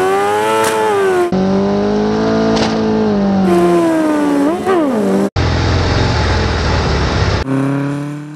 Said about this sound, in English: maybe Harleys aren't meant to do burnouts in Digby